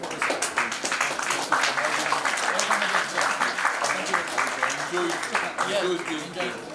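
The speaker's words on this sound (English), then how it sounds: "One applause for Professor" Audience applause for a professor at an intellectual discourse on independence, a dense, continuous patter of clapping running under people talking throughout.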